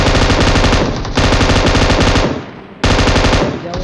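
An AKM assault rifle fires in a battle royale video game, with three loud, close, rapid-fire bursts separated by short pauses.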